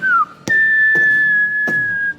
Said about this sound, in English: firework sounds.